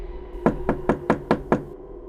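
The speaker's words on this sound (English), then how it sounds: "A soft knock on my door." Soft, evenly spaced knocks on a door, six light raps in a steady rhythm, close and clear against a quiet background.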